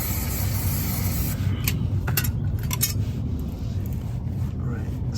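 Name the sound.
aerosol spray being sprayed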